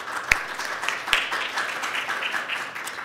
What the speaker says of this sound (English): So everybody give Yianna a round of applause.